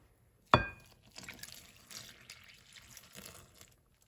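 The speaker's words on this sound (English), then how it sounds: "we're going to add about 650 grams of water" Water is poured into flour in a bowl for a vegan sourdough farmhouse loaf, beginning with a sharp clink and followed by a soft, uneven trickle and splash that fades out, close and quiet.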